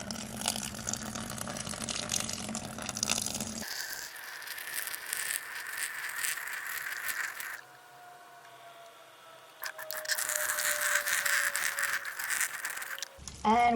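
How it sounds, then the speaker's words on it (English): Warm water is poured onto a compressed coco coir block in a container, a steady close splashing and trickling that briefly thins to a quiet patch before the pouring resumes. "pour warm water on the top so that it can kind of soak and expand slowly"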